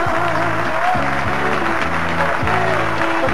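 Loud, steady audience applause at a concert, washing over sustained music with a deep, droning bass throughout.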